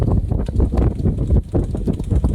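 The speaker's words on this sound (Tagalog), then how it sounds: "Lakas ng hangin mga friend." Strong gusty wind at a beach in Las Palmas de Gran Canaria, Spain, buffets the microphone in a continuous low roar, with surges and dips throughout.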